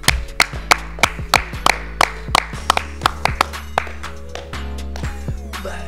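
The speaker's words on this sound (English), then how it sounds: "Clap it up." A single person claps steadily, about a dozen sharp claps at an even rhythm, close and loud, over a low background tone, with no one talking.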